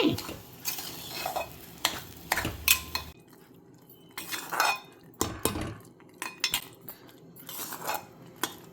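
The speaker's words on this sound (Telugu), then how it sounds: "దీన్ని తిప్పుకోవాలి. మళ్ళీ బాగా తిప్పితే" A spoon stirs sweet halwa dough in a pan with scraping and clinking strokes, some quick bursts and some slower ones, alongside a faint sizzle, close by and with no talk.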